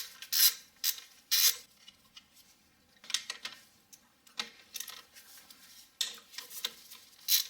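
A ratchet loosens bolts on a 2007 Toyota Highlander Hybrid engine, heard as clusters of sharp clicking bursts, close and intermittent, separated by quiet pauses.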